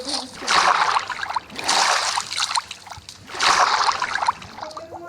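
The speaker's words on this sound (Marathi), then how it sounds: "मी हाताने धुते कपडे टेरेसवर ड्रमाच्या पाण्यात" Clothes washed by hand in a drum of water on a terrace: three long bursts of sloshing and splashing water, close and moderately loud, with short pauses between them.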